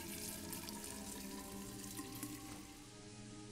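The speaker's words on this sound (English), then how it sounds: "Can I fill up my pot" A kitchen tap runs water into a cooking pot in the game Fran Bow, a steady soft gush of splashing water for several seconds, with no talk.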